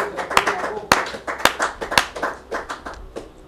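A church congregation clapping in praise of the Lord, uneven hand claps with several sharp loud strikes over a lively, crowded room.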